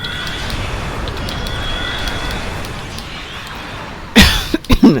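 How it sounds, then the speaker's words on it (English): After a few seconds of quiet background, a person gives a short burst of harsh coughs, three or four close together and loud. "Excuse my coughing."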